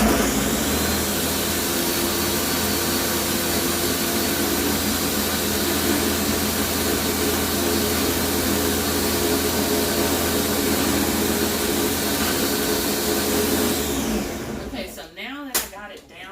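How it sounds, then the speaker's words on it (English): A kitchen blender whirs a smoothie in one loud, steady motor roar for about fourteen seconds, then winds down and stops near the end. "give me a little bit of seconds here to get this blended down"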